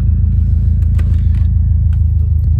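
Deep, loud Subaru WRX STI engine rumble idling steadily and close by, with a throaty low drone and faint clicks on top.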